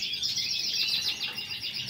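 A contest songbird kept for competitions chirps and warbles in a steady, continuous stream of bright, close notes, with no talking over it.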